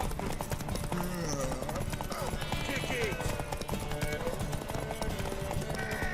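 Horse hooves in The Witcher 3 video game, a continuous rapid clip-clop of galloping with an occasional whinny, heard under shouting voices and game sound.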